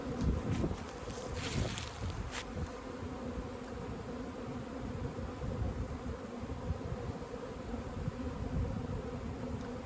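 Honey bees in flight over a yard make a continuous, fairly loud droning buzz, with individual insects passing near amid light breeze.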